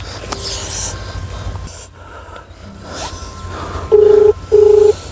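Two short electronic phone tones beep in sequence after some rustling and shuffling nearby, clear and close.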